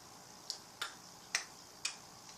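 Four or five sharp, crisp clicks spaced irregularly, like a tongue clicking against the palate, fairly faint over a quiet background hiss.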